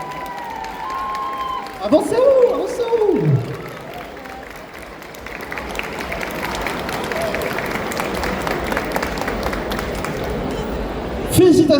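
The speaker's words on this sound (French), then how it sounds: "on applaudit bien fort le groupe Clair Obscur, Verso ML qui arrive à la première place du groupe" An audience at a cosplay contest prize ceremony applauds the first-place group, sustained clapping and cheering rising after a brief spoken call and continuing under crowd noise with voices mixed in.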